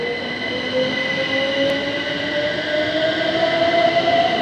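Class 357 electric multiple unit 357312 pulling out of platform 8 at Barking, bound for London Fenchurch Street, with a steady loud hum, a rising motor whine as it gathers speed and faint wheel noise throughout.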